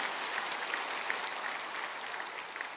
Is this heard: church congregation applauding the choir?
yes